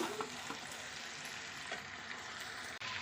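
Chicken pieces with small potatoes sizzle in a pan as they are fried down in spices, a steady dense crackle with a few soft stirring scrapes and a brief dip near the end.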